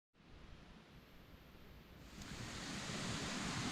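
A rushing creek gives a steady broadband roar that swells gradually louder, with no other distinct sounds.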